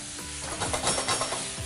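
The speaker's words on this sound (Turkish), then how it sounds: "Hızlıca karıştırmaya devam ediyoruz" Noodles with soy sauce stirred quickly in a hot pan, a short close burst of sizzling with rhythmic scraping strokes of the utensil against the pan.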